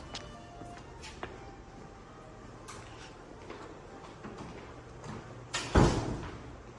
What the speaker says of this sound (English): hold it up to the door, green, and it's gonna we're gonna hear that unlock